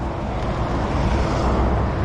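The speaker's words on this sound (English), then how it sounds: "Got the freeway on the left, so you can probably hear all the traffic." Steady, loud roar of freeway traffic beside a bike trail near Frankston, Melbourne, a continuous broadband rush of passing vehicles without distinct individual pass-bys, and no one speaking.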